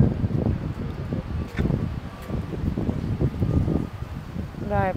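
Strong wind blows on the Gelendzhik seafront by the Black Sea bay, a gusty roar buffeting the microphone, with people talking close by.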